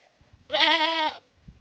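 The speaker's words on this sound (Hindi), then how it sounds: "तो अब बारी आती है बकरा काटने की।" A goat lets out one loud, wavering bleat lasting about half a second at close range, heard during a Sakat puja ritual just before the animal is slaughtered, with faint background movement around it.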